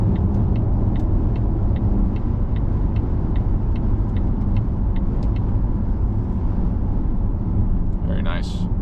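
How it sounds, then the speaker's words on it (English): A 2025 Volvo XC90 supercharged seven-seat SUV brakes on an exit ramp and slows toward a stop, giving a steady low road rumble and tire noise from inside the cabin that eases slightly near the end, with a faint brief squeak. "Hop off this exit here, see how the brakes feel, slow them down to a stop."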